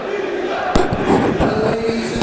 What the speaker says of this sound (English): Crowd chanting for Zeeshan.